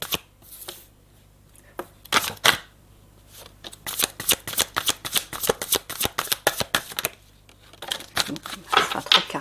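Close, crisp riffling and slapping of tarot cards being shuffled by hand for a four-card reading, a steady run of quick snaps and flutters with a few pauses and a low hum underneath.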